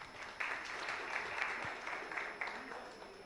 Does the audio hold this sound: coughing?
no